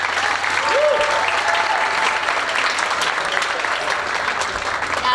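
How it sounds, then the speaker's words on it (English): Audience applause at a high school Tri-M concert, greeting a young piano accompanist: dense, steady clapping from a crowd filling the hall, loud and sustained throughout. "So please give her a round of applause even before she starts to play"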